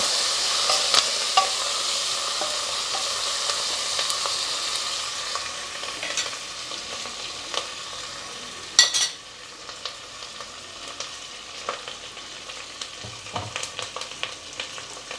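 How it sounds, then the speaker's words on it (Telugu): Asafoetida fries in hot oil in a pan for dal, a steady close sizzle with occasional stirring scrapes and one sharper clatter midway, no talk. "పప్పు కూరలకు కంపల్సరీ ఇంగువ వేసుకోండి, మంచి సువాసన వచ్చే వరకు వేయించుకోండి."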